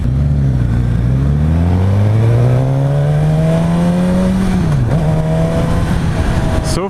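A Suzuki GSX-S1000 motorcycle engine pulls hard and close under acceleration, its pitch climbing through the gears with a brief dip at a shift, amid steady wind rush.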